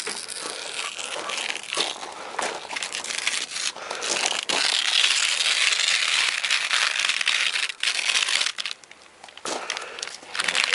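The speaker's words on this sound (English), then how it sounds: "right after you're done painting, take the tape off" Tape being peeled off a freshly painted KLR motorcycle gas tank, a close, continuous crackling and tearing rustle with brief pauses between pulls.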